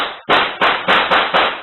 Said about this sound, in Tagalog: umalingaw na ang magkakasunod na putok ng baril